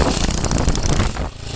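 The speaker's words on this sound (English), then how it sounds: "That's clutch stuff. That's straining up the engine, so that's what that means." A small engine strains under a slipping centrifugal clutch, a loud, rough, fluctuating drone close by that drops off slightly near the end.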